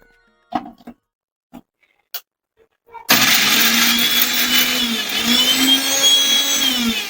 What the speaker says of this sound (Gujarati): હવે એને મિક્સરમાં સડાવી દઈએ